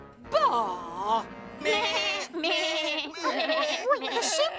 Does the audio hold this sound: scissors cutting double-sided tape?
no